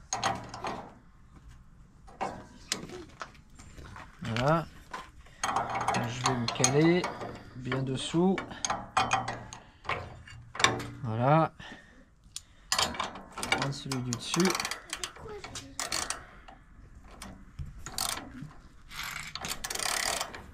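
A wrench tightens a bolt on a Forst ST6P wood chipper during maintenance, with bursts of close, rapid ratcheting clicks broken by pauses, and a voice audible now and then in between.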